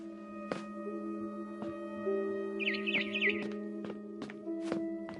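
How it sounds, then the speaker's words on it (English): Bird chirping outside a window in a PS4 video game, a barn swallow by its nest: a brief burst of rapid high chirps midway, over steady tonal game music and periodic thumps. "Then I heard chirping outside my window."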